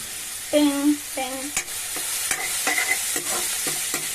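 Capsicum pieces being stirred into a bottle gourd curry in a pan, with a spoon scraping and clacking in a steady, close run of strokes over a soft sizzle.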